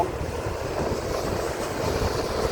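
A CAT 320D2 excavator with a six-cylinder engine runs steadily, a loud, even low rumble with no breaks, during clearing work to widen a road shoulder.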